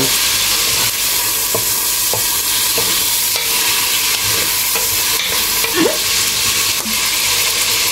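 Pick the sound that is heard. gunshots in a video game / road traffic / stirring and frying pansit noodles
stirring and frying pansit noodles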